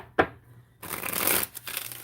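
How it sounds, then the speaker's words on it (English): A tarot card deck is shuffled up close, with a short sharp riffle burst followed by a longer, steady papery shuffling that pauses briefly and resumes, no talking over it. "I am shuffling my tarot deck"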